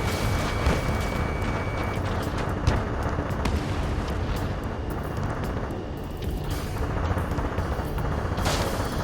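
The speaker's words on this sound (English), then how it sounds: "Target is in machine gun range." Machine gun fire from a combat jet in Ace Combat 7, heard as a dense, continuous roar of rapid shots and explosions that stays loud and unbroken, with a sharper crack near the end.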